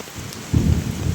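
Heavy rain pours steadily while a deep roll of thunder swells in partway through, loud and rumbling under the hiss of the downpour.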